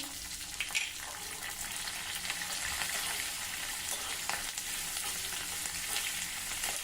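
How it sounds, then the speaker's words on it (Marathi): Peanuts, a pinch of asafoetida and green chillies fry in a hot oil tempering, giving a steady, close crackling sizzle throughout with a few brief louder pops near the start. "हिरवी मिरची देखील छान परतून घेऊ"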